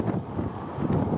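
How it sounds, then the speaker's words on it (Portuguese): Strong seaside wind buffets a phone microphone in a continuous low roar with gusty surges, loud and close, and no one speaks. "tá ventando forte."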